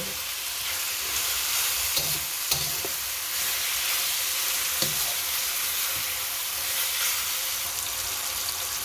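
Chicken browning in a pan for spicy coconut-milk chicken with kamias, a dense, even hiss of frying that carries on steadily with a few faint clicks of stirring.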